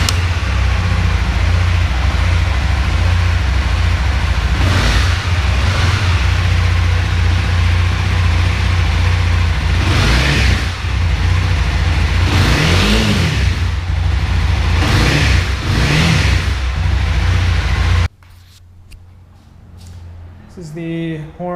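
A 2015 Honda CB300F motorcycle engine runs loudly and steadily, revving up several times in short bursts, then cuts out to quieter background noise.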